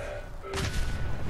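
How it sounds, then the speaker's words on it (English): A car blows up in the video game Fallout 4 (Automatron DLC): a sudden loud, broad blast that rolls on as a sustained rumbling roar for nearly a second after the hit. "Car explosion!"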